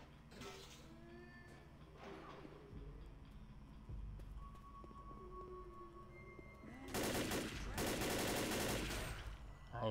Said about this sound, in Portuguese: Ah, esse é o rei da metralhadora